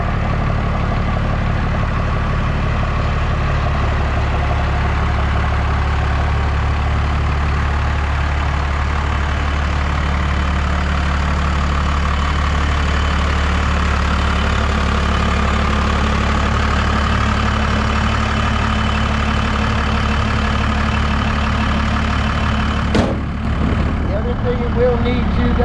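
A first-generation Dodge Ram pickup with a Cummins turbo diesel idles in a low, steady rumble close by, with a brief sharp clatter near the end and a possible water pump fault.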